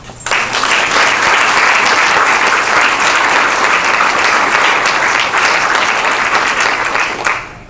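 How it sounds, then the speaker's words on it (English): An audience at a community forum on education applauds its students, a dense, loud, sustained clapping that starts abruptly and holds steady for several seconds before tapering at the end. "Let's give a round of applause to our students."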